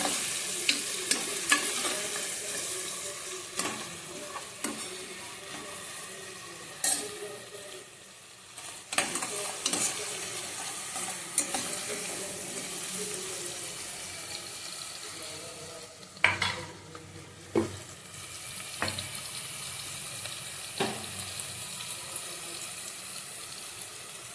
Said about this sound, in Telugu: ఆనియన్స్ తొందరగా రెడ్ కలర్ రావడానికి కొంచెం సాల్ట్ వేసుకుంటే తొందరగా వచ్చేస్తుంది